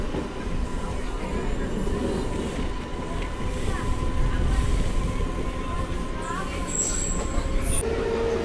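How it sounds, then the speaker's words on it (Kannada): The Yesvantpur–Vijayapura express train passes at a railway crossing near Gadag, a loud steady rumble of wheels and carriages running throughout, with a high metallic squeal rising near the end. "Yeshwanthpur Vijayapura train crossing."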